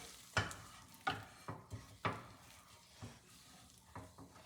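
Scrambled eggs get stirred in a frying pan over a fire, a utensil scraping and tapping the pan in uneven strokes over a soft background sizzle, close and fairly quiet.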